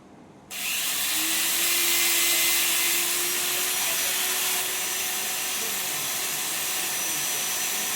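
A drilling machine starts up abruptly and runs at a steady whine throughout, drilling holes in rudraksha beads, loud and close, with no talking.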